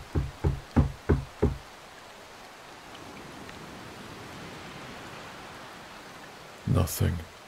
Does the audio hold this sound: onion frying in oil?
no